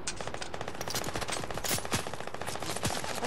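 Rapid automatic gunfire in the Fortnite video game, a loud sustained burst of shots with a few heavier blasts standing out, filling the whole clip with no talk.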